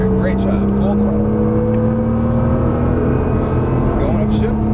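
A car accelerates hard at full throttle on a racetrack, its engine a steady rising drone heard from inside the cabin while an instructor talks over it.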